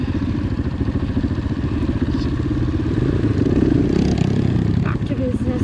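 A lowered Kawasaki KLX 140G dirt bike rides off-road on an OHV trail near Foresthill, California, its engine droning steadily throughout with rattling clatter and a slight rise in revs midway, close and loud.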